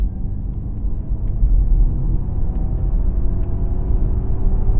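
Ford Mustang Mach-E driving with its Untamed propulsion sound on, a steady low synthetic hum and faint rising tone over road rumble and tyre noise inside the cabin, continuous with no talking.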